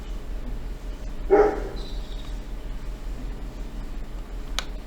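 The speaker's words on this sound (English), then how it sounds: "I'm sorry if you hear my dog," A dog gives a single short bark or yelp at mid distance inside a quiet room, with steady low background hum and no talking.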